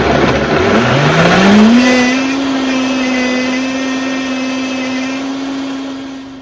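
A kitchen blender whirs loudly as it blends homemade pie ingredients, its motor climbing in pitch as it spins up, then holding a steady high whine before easing off slightly.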